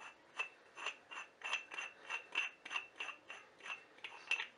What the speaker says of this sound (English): now it's turning smoothly. So we'll open this up, and it's threaded a whole bunch of times.